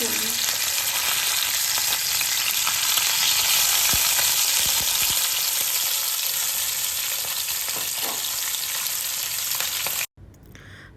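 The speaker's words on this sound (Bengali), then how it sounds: "ভাজা হয়ে যাওয়ার পর এপিট ওপিট এপিট ওপিট করেই ভেজে নেবেন" Pomfret fish fry in hot oil with a loud, continuous sizzle and occasional stirring clatter, cutting off abruptly near the end.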